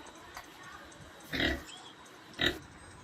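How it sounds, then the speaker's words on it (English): A pig oinks in two short, nasal grunts about a second apart, with a fainter snort before them, fairly close against a quiet background. "pig,"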